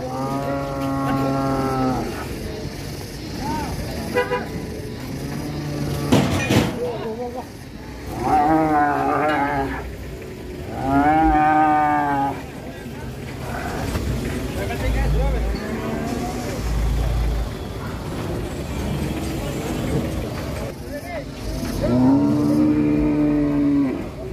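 Cattle at a market, a sacrificial cow causing a commotion, lowing in several long, loud moos spread across the span, with people talking and shouting around it and some traffic noise.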